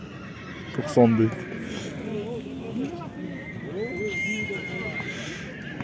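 Horses neighing and whinnying at the Karakol livestock bazaar, one loud close whinny early on, with clip-clop of hooves and people talking and bargaining throughout.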